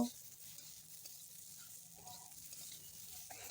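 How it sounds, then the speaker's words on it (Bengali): Eggplant pieces fry lightly in oil in a wok, making a faint, steady sizzle with a few soft stirring scrapes. "এরপরে কড়াতে আমি বেগুন কটা হালকা ভেজে নেব।"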